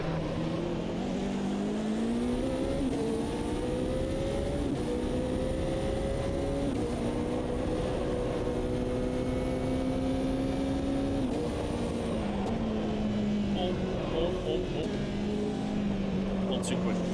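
A race car lapping Circuit of the Americas in Automobilista 2, its engine whining steadily upward through the gears with brief dips under braking, while a voice talks over the continuous drone.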